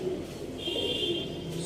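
Sialkoti pigeons, the pearl-marked breed, coo in low, rolling murmurs close by, with a thin, steady whistling tone running through the middle of the stretch.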